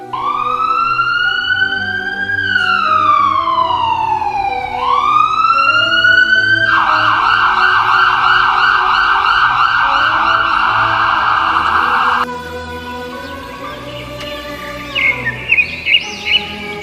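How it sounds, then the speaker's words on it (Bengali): A loud ambulance siren wails close by, sweeping up and down before switching to a rapid warbling tone, then cutting out, leaving faint bird calls and background noise. "সকালবেলায় দেখা যায় অ্যাম্বুলেন্স তাদের বাড়িতে এসে শাহিনের লাশ দিয়ে যায়"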